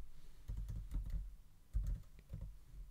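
Fingers type text on a computer keyboard, quick clusters of soft close keystrokes with brief pauses, fairly quiet and with no talking.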